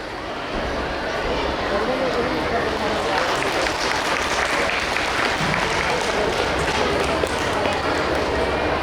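At a school prize distribution, a crowd of parents and children claps loudly for a prize winner, and the dense applause swells and holds for several seconds.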